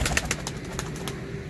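Low pigeon cooing, steady and close, from a pure, genuine breed of pigeon belonging to a fancier, with faint rustling and a few soft flutters through it.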